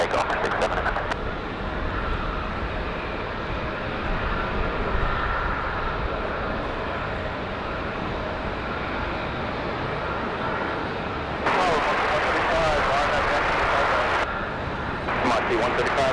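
A jet airliner takes off on the runway at Raleigh-Durham International in the rain, its engine roar steady and broad throughout, with rain hiss beneath and a louder swell late on.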